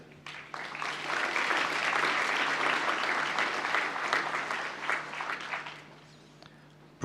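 Audience at a university graduation presentation ceremony applauds newly presented graduates; clapping swells quickly, holds full and steady for several seconds, then tapers off to a few scattered claps.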